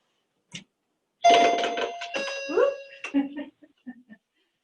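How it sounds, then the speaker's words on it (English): A doorbell chime rings once with a few sustained tones, then fades while soft knocks or movement sound nearby. "I'm gonna go push the doorbell here"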